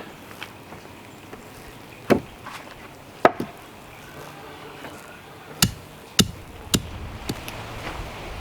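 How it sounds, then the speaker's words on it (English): Sand for a greenhouse base is tamped down in a series of sharp, irregular thuds, a few seconds apart at first and then closer together, standing out clearly over a quiet outdoor background. "I'm going to have to tamper this down a lot more than I already got it"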